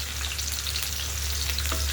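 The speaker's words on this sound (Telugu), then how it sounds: "ఇప్పుడు పచ్చిమిర్చి ఉల్లిపాయ వేసుకుందాం ఇవి బాగా వేగాలండి" Chopped onions and green chilies frying in hot oil for a chana dal tomato curry, giving a loud, steady sizzle that runs unbroken and close, with no voices.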